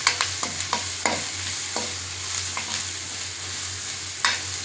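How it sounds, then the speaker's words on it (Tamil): Ginger garlic paste frying in a pan for chilli parotta, a steady close sizzle with repeated sharp scrapes and taps of a stirring spoon against the pan, under a constant low hum. "இது பச்சை வாசம் போகிற வரைக்கும் ஃப்ரை பண்ணணும்."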